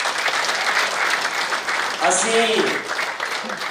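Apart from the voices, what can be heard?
applause for Jitendra Shah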